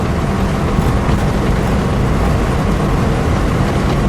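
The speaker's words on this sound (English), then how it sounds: "Just an open road with your Pontiac. Just cruising down the road." A 1961 Pontiac Catalina convertible cruises down an open road, giving a steady, loud rumble of engine, tyres and wind that holds evenly without break throughout.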